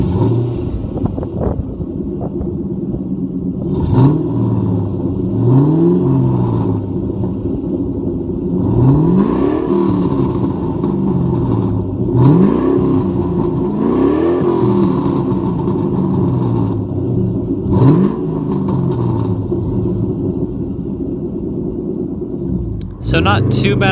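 A 2001 Mustang GT V8 with an X-pipe and stock mufflers, heard from inside the cabin: a low, subdued rumble rising and falling through repeated revs and gear changes, with a voice talking over it.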